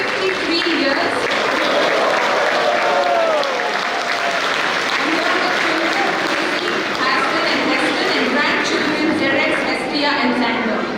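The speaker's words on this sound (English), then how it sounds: "with a big round of applause for the 40+ years of service in Doha Qatar" An audience at a cultural programme for the Feast of St. Joseph Vaz in Doha, Qatar claps steadily for about eleven seconds, a dense, loud, sustained round of applause.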